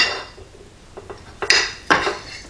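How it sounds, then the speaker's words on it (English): Knife working through a rotisserie-roasted turkey breast on a board, a few sharp clinks and scrapes of metal against the surface, close and fairly loud, with no talking. "I'm just going to just cut a slice for taste testing here."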